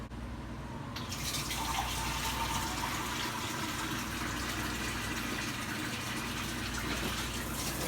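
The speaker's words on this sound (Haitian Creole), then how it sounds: "on va mettre 2 copes de l'eau là-dedans" Two cups of water pour into a cooking pot during Haitian home cooking, a steady, close gushing and splashing stream that starts after a second and runs without a break to the end, with no talk.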